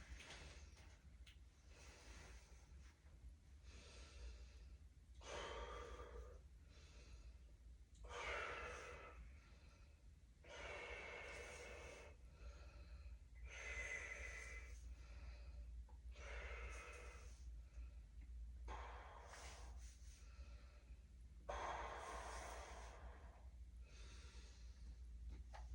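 Deep breathing from a patient during a lung check in a physical assessment, inhaling through the nose and exhaling through the mouth in a steady series of about nine long, close breaths over a low background hum.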